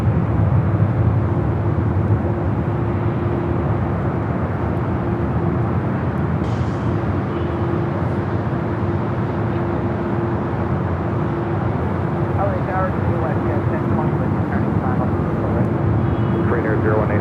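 A Boeing 747-8 Intercontinental jet airliner at LAX roars loud and steady throughout, a broad continuous engine rumble with a sustained whine.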